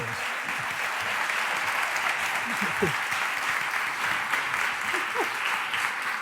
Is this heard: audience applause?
yes